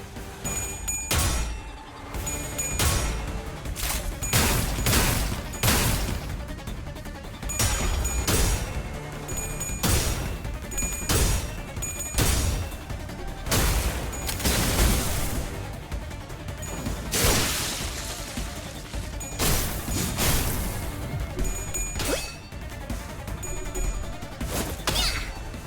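Gunfire in the Limbus Company video game: loud, sharp shots and crashing impacts repeat in irregular volleys across a dense, continuous battle soundscape.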